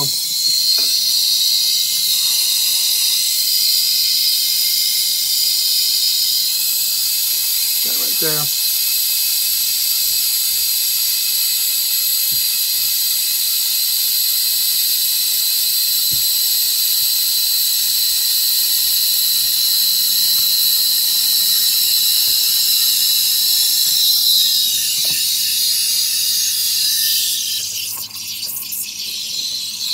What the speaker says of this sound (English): steaming milk is really kind of cool because right now you got that high-pitched steam sound